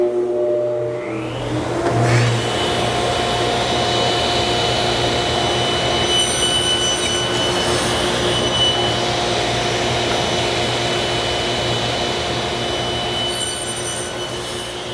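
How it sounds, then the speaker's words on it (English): A panel saw cuts a wooden joinery piece with a continuous loud, close grinding rasp that holds steady for about fifteen seconds after a brief start. "I've reset up with the panel saw and checked my line up here"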